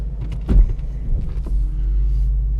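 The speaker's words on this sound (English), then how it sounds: "Now that we unplugged the tuner and we restored it, we'll start the car." A car engine turns over after a tuner is unplugged and restored, with a brief crank burst followed by a steady low idle rumble, close and continuous.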